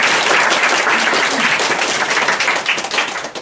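An audience applauds a graduating senior's speech at a welcome-and-farewell gathering, with dense, sustained clapping that fills the room and only thins slightly toward the end.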